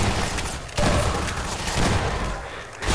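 Shotgun blasts and surrounding combat in the Half-Life 2 video game, several loud bursts over a busy, dense battle noise with no clear voices.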